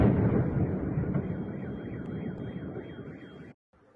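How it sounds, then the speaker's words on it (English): Rumbling from an explosion at an oil pumping station fades as a warbling car alarm wails in a rising and falling pattern, then cuts off abruptly near the end. "lots of car alarms were going off as well at the same time"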